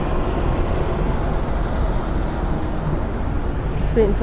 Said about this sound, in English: Just waiting for the buses to go by.